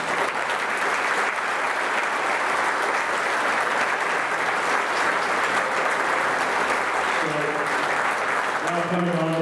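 Sustained, loud applause from a large audience at a St. Louis Hall of Fame induction ceremony, dense and even throughout, with a faint tone or music creeping in near the end.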